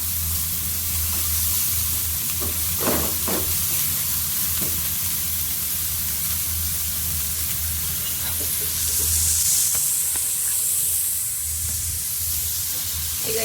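Coriander leaves and carrot fry in a pan with a constant close sizzle and hiss, a few stirring knocks early on, and a brief brighter spray of sizzling near the end.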